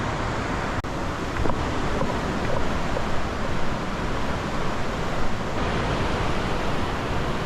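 The Dragon Waterfall at Bat Xat roars as a loud, steady, broadband rush of falling water, continuous and close, with no voices over it.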